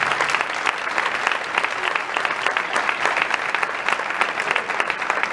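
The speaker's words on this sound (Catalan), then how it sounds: "un fort aplaudiment i un fort reconeixement als mestres" Sustained, steady applause from an audience honouring the teachers at a Falla Bernat Aliño closing ceremony for a microfiction contest in Sueca, dense clapping filling the hall throughout.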